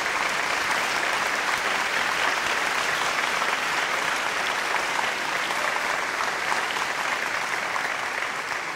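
Sustained, evenly dense applause from a large audience at a 2016 New Year's greetings ceremony, continuing strongly for the whole stretch without a break.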